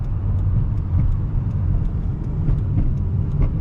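A used 2000 Toyota Corolla CE, more than 20 years old, drones with a steady low engine rumble and road noise from inside the car while driving, loud and continuous with no talk.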